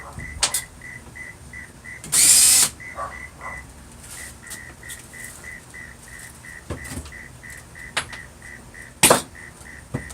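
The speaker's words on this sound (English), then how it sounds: "I got a little frog or something over here by the shop and he's driving me crazy" A small frog croaks outside a workshop, a steady series of short, evenly spaced chirping calls repeating throughout, with a couple of louder sharp bursts of other noise standing out near by.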